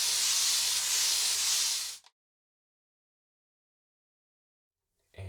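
A shaving brush paints soap lather onto skin with a brisk, bristly hiss for about two seconds, followed by silence and then the brushing briefly resumes.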